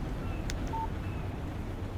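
A short electronic text message alert from a phone in the video game Alan Wake Remastered: one brief tonal chime over a steady low background hum, fairly faint.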